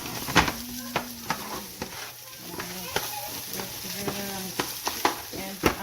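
Eggs for shrimp fried rice being stirred as they fry in a pan, close by: repeated sharp scrapes and taps of the utensil against the pan over a light sizzle, with a faint voice at moments.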